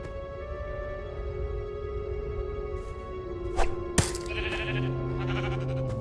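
A sheep bleats in the Minecraft Story Mode video game, with several short calls standing out over a steady musical game soundtrack. There is no speech.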